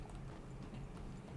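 Steady clip-clop of horse hooves in Red Dead, a steady run of close, even beats against a soft low rumble, no voices.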